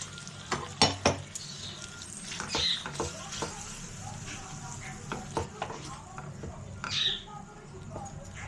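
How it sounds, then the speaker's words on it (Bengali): Shahi paneer curry ingredients being stirred in a pan, a spoon clinking and scraping against the metal in irregular taps and scrapes, moderately close, with faint background talk. "এগুলো নাড়তে হবে, এগুলো খুব নেড়ে যেতে হবে, নাহলে লেগে যেতে পারে।"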